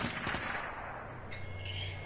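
Gunfire in an online shooter game comes as a dense, loud burst of rapid shots that roll into a continuous roar, then fade into a sustained hum. No one talks.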